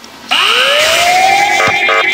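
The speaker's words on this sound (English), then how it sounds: "Sound the alarm!" An alarm siren in the Ice Scream video game sounds loud and close, a rising electronic wail that swells and holds steady, then breaks into a pulsing warble near the end, with no voices over it.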